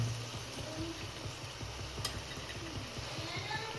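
Beetroot halwa with ghee and cashews being stirred in a pan, a steady soft scraping and gentle sizzle that runs evenly throughout, fairly quiet and close, with no talk.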